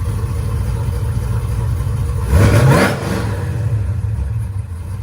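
A Chevrolet C10 pickup truck that has sat unused in a driveway gets a single short rev, the engine note rising sharply from a steady rumbling idle and then settling back down, close and loud.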